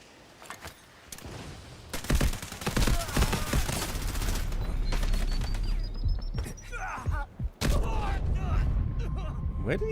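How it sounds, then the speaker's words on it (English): Bursts of automatic gunfire and single shots in the shooter Delta Force, loud and close with occasional distant cracks and a booming impact, while someone talks over the action. "Where did he shoot from?"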